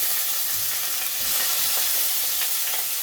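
Onion pieces frying in oil with popped mustard seeds in a pan, a steady close broadband sizzle with occasional crackles and stirring scrapes throughout, no voices.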